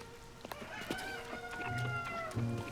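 Chickens in Tears of the Kingdom cluck and squawk in short bursts at close range over soft game ambience and music.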